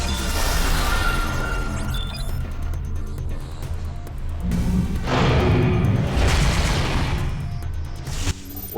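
A bomb disc blows apart an enemy's shield in the Tron: Evolution video game, a loud booming burst rising out of a dense, continuous barrage of crashes, whooshes and gunfire-like blasts.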